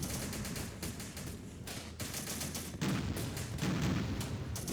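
Bursts of gunfire from a BTR armoured vehicle in the war strategy game Syrian Warfare, with repeated rapid shots and booming reports rolling over a dense battle din at moderate volume.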